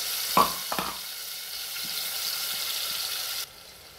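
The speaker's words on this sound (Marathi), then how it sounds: "ते वाटण त्यामध्ये छान आपल्याला परतून घ्यायचं आहे" Ground spice paste (vatan) fries in hot oil for maswadi, a soft continuous sizzle after two brief clatters as it goes into the pan, then the hiss drops off near the end.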